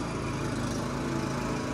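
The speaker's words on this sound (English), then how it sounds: "the riding lawnmower is coming by" A riding lawnmower's engine drones steadily and loudly at close range, holding an even, continuous hum throughout with no voices.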